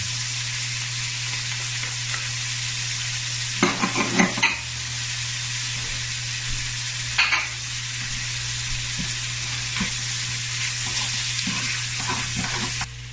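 Carrots and onion sauté together in a pot for a creamy seafood chowder, a steady, close sizzle running throughout with a few louder stirring scrapes and clatters around the middle.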